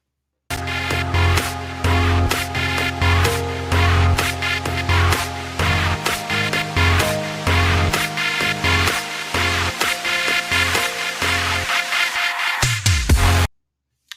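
An electro track builds up with layered synths and a filtered sweep, driving steadily before cutting abruptly to silence near the end.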